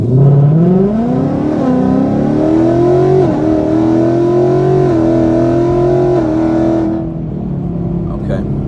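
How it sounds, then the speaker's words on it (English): A 2018-19 Ford Mustang GT with longtube headers revs at about quarter throttle, its exhaust rising into a loud, steady deep burble before dropping back toward idle near the end. "There's a nice burble to it now."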